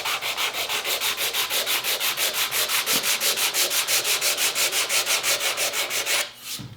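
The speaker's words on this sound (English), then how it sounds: "this 100 grit sandpaper is absolutely the way to pull those top layers of finish" Rapid, even back-and-forth strokes of 100 grit sandpaper scour old finish off a wooden rifle stock, a close, rhythmic rasping that runs steadily for several seconds before a brief pause.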